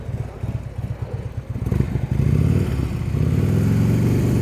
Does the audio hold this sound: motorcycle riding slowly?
yes